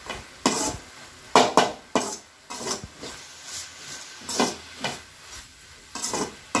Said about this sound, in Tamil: இப்போ நல்லா வதக்கிடலாம். நல்லா வதங்கணும்.